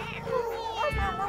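Cartoon cat gives a drawn-out, wavering meow up close, over a voice speaking in the background.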